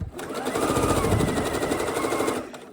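Sewing machine stitching a fabric dart, a close, loud, fast steady whir of needle strokes that runs for about two seconds and then stops.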